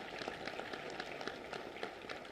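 Steady applause from an audience at the inauguration of a BSL-2 laboratory, a dense, faint patter of many hands clapping without pause, heard from a distance.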